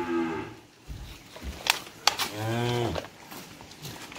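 Cattle in a cow pen at a cattle-breeding farm low loudly nearby, with a long drawn-out moo and shorter calls, plus sharp clatters and a faint voice in the background.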